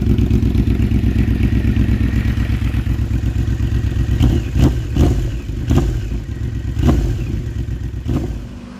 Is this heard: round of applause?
no